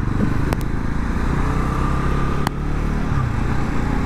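A Bajaj Pulsar NS 400Z motorcycle is ridden in first gear, its engine a close, steady, loud drone with a brief click partway through.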